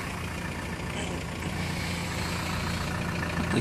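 A helper's car pulls up and idles at night beside a stranded Audi A6 C5 2.4 quattro with a punctured oil pan, waiting to tow it; a steady, close engine drone holds throughout with no talk.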